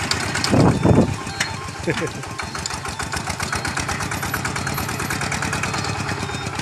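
A homemade Thai farm vehicle (rot e-taen) runs with a steady, rapidly pulsing engine chug throughout, loud and close, with a voice speaking briefly near the start.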